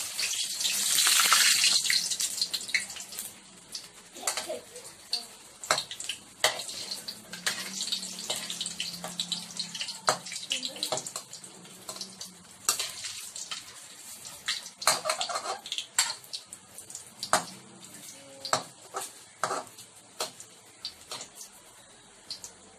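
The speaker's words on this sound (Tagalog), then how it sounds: "I-deep fry lang po natin ang ating squid ball." Squid balls deep frying in hot oil give a steady, close hiss with a loud burst of bubbling at the start, then ongoing crackle and scattered pops throughout.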